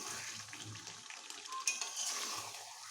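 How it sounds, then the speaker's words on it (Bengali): Chicken pieces being stir-fried in released oil in a pan, a quiet, even sizzle with soft scraping from stirring and a small clink partway through. "আমি এটাকে বেশ ভালোভাবে কষাচ্ছি"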